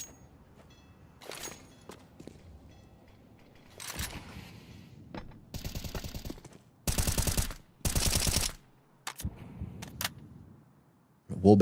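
Bursts of automatic gunfire in a Counter-Strike match, including shots through walls, come in several dense volleys of rapid rounds separated by gaps, with quieter clicks and footsteps between them.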